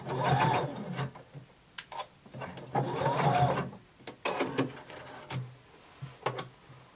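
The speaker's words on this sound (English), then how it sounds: "you're going to back stitch and stop at the other pin" A sewing machine back stitches along a bodice neckline in short, uneven bursts of rapid stitching separated by pauses and small clicks, close and fairly quiet.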